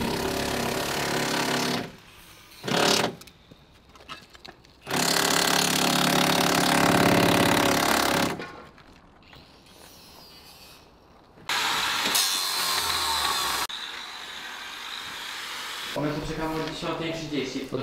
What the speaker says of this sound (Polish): Szlifierka kątowa.